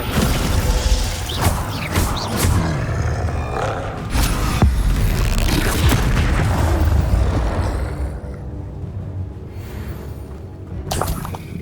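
Spell impacts crash and boom during combat in Hogwarts Legacy, a dense, loud run of blasts, roars and smashing hits filling most of the stretch before easing into a quieter tail.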